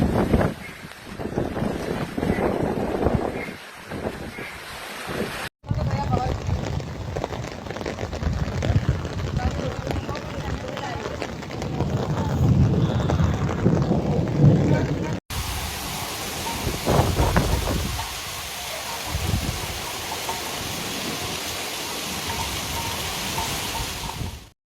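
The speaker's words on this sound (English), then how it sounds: "shows torrents of water flooding the streets of Santiago de Cuba, the country's second-largest city" Hurricane Melissa floodwater pours through the streets of Santiago de Cuba as wind and rain roar, a loud continuous rushing across several abrupt cuts, with wind buffeting the microphone.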